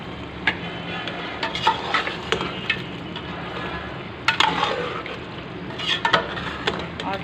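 Tomatoes added to partly cooked potatoes frying in a pan, soft sizzling with intermittent stirring scrapes and clinks, fairly quiet and close.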